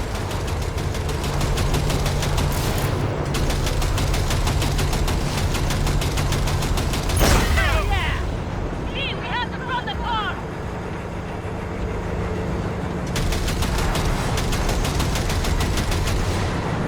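Automatic gunfire rattles in sustained bursts during a Cyberpunk 2077 train chase, aimed at a railcar coupler, with engine rumble and a sharp impact midway, then more firing; a voice speaks over parts of it.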